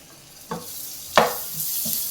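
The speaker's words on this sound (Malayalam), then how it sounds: "വെളുത്തുള്ളി ചെറുതായിട്ടൊന്ന് മൂത്ത് വരട്ടെ." Chopped garlic fries in melted butter with a soft, continuous sizzle, broken by a few sharp clinks and scrapes from a spoon in the pan.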